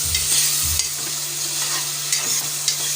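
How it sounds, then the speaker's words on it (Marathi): Tomatoes stir-fried in a pan for vegetable pulao give a loud, continuous sizzle up close, with a few distinct stirring scrapes and clacks breaking through the frying hiss. "टोमॅटो, आता थोडं लाल होईपर्यंत परतून घ्यायचं आहे।"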